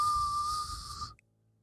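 A single steady, high-pitched whistle holds for about a second and then cuts off sharply, leaving near silence.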